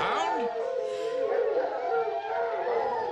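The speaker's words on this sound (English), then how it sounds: "That's no ordinary dog." A hound howls in a long, wavering, mournful cry at close range, rising and falling in pitch, set in a comedy scene at night with no talking over it.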